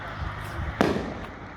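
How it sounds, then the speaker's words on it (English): A single firework bang goes off at a distance on bonfire night during a street walk, one sharp crack rising out of a low background rumble, fairly faint overall. "And the fireworks are starting to warm up."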